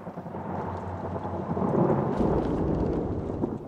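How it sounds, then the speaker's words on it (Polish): In the horror game Outlast, heavy thunder rolls and rumbles through a steady downpour of rain, building louder about halfway through and staying close and full. "Dobra, to tylko grzmoty."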